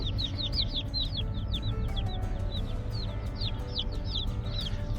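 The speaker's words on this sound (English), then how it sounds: "We got a bunch of new baby chicks." Many small high chirps from a bunch of new baby chicks repeat steadily and close, peeping over a constant low rumble like a vehicle engine.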